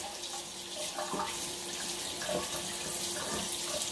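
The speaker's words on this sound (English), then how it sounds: "you're gonna run the water on it while you take a paper towel and you just kind of massage it all away" Tap water runs over a glass piece in a sink while etching paste is rinsed off, a steady splashing stream with faint clinks and rubbing sounds, close and moderately quiet.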